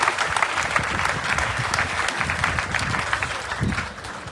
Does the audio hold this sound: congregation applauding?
yes